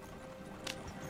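A horse in the Red Dead Online game gives a brief burst of hoof clip-clop that stands out sharply against a low background hum; it is short and close, with no speech.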